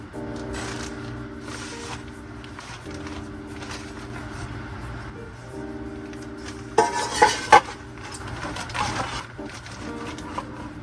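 Pots and pans clank and rattle as they are packed into a bag aboard a sailboat, with a steady low hum underneath and a few sharper metallic knocks near the end.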